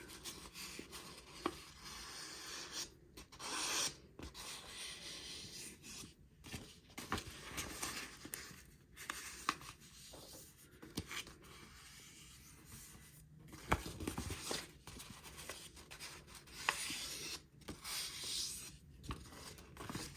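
Crisp paper rustling and creasing while an origami crane is folded, with repeated short scrapes and crinkles close up, alone and fairly quiet.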